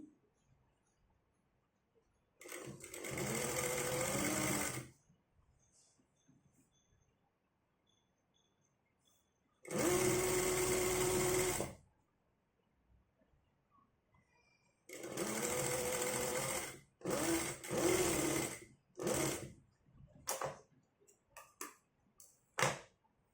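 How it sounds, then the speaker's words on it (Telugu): A sewing machine stitches cloth for a hook-and-eye garment piece in loud, steady bursts of fast mechanical whirring, separated by quiet pauses, with scattered small clicks and handling noises between runs. "ఇప్పుడు వచ్చేసి పక్కంతా ఒక కుట్టు అయితే వేసుకోవాలి."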